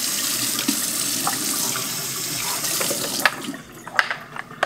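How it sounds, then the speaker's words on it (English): Tap water runs to rinse a removable part of a Casabrew 5700 Gense espresso machine. The flow splashes steadily and close by, with small clinks and clatters near the end as the part is handled under the stream. "So just give that a little bit of a rinse."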